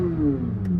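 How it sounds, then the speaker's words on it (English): A Chevrolet Corvette C8 Z06 engine revs briefly at a car show, a single close rising rev. "That's how the Z06 sounds getting revved."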